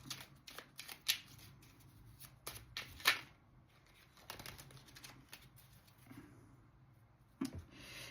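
Tarot cards are shuffled and drawn in soft, quiet bursts of papery flicks and taps, with a few sharper snaps spaced unevenly in a hushed room.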